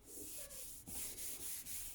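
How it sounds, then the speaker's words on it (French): Hand sanding with 400-grit paper over filler on a Toyota Starlet rear spoiler: short, close, scratchy rubbing strokes repeating in a steady back-and-forth rhythm. "maintenant, je vais poncer une partie."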